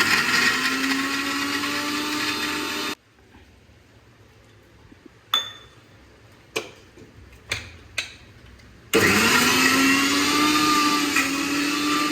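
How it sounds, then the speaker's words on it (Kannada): A mixer grinder grinding tamarind, jaggery and chilli whirs loudly, stops for several seconds with a few clicks and knocks, then starts whirring again. "ಮಿಕ್ಸಿಗೆ ಪಾಡ್ಗ ಪೂರ"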